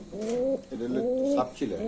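Pigeons in a market cage coo up close in a run of rolling, throaty phrases, three or so in quick succession, fairly loud and clear.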